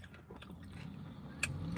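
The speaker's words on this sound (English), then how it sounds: "crunch of the pizza base." Someone biting and chewing a Domino's meat pie pizza with a crunchy base, soft close crunches and mastication sounds with one sharper crunch near the end.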